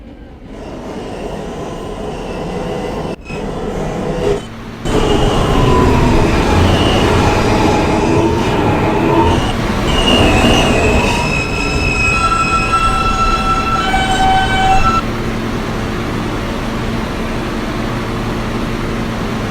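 A Queens-bound New York subway E train rumbles loudly along the tracks, with metallic squeals and whining tones rising over the steady roar; no voices.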